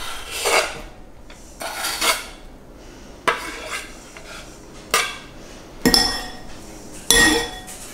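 Chopped garlic is scraped off a board into a bowl while preparing a vegan thin and crispy pizza, a run of separate rasping scrapes and clinks of metal against dish, close and distinct, spaced about a second apart with no talk.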